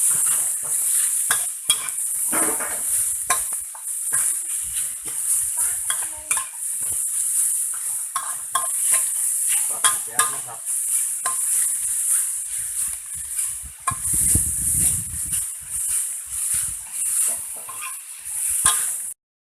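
Enoki mushrooms and pork pieces are stir-fried in a pan, with a steady hiss of sizzling oil and repeated scrapes and clinks of a utensil against the pan.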